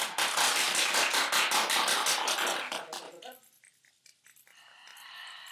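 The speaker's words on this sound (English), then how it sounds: "We're going to clap and rub a few times." A group at a Reiki session claps in a rapid, loud flurry for about three seconds, then shifts to softer, scattered sounds of palms rubbing together, with some voice-like murmuring mixed in.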